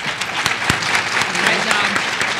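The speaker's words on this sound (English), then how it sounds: "let's give them another round of applause" An audience at a women's agricultural leadership summit giving a round of applause, steady clapping with a few sharper individual claps standing out, continuing across the whole stretch.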